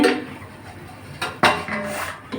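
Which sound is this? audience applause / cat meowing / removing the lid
removing the lid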